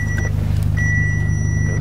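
Engine of an old VW Beetle (Fusca) rumbling low and steady at close range for about two seconds, with a thin high beeping tone breaking in and out above it.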